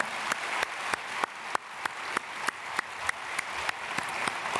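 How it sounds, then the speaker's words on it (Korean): A church congregation claps in unison at a Sunday worship service, a fairly quiet, even rhythm of single sharp claps about three per second, with no talk over it. "박수로 축복하겠습니다"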